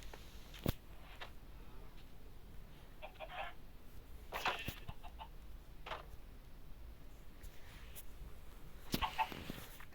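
Faint, scattered video game chicken clucks in Minecraft over a low background hiss, with a few sharp clicks breaking in now and then.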